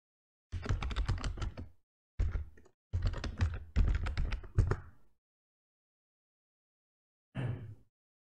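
Login ID and password typed on a computer keyboard in quick bursts of close key taps, several clusters separated by short pauses, then a final brief burst after a longer gap.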